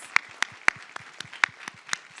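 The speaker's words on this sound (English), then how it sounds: "Give them a round of applause." Sparse, distinct hand claps at a realtor association's 100th anniversary gala, about eight sharp individual claps at an uneven rhythm, fairly close and alone.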